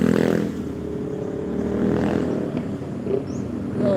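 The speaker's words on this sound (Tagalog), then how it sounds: "Ay, dumaan yung mga big bike." A group of big motorcycles rolls past on a roadside, their engines a steady low rumble throughout with small swells as each bike goes by, fairly close and without talk.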